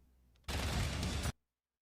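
A flashbang goes off in the video game Black Ops 6 Zombies: a single loud, harsh burst lasting under a second that cuts off abruptly into silence after a faint background.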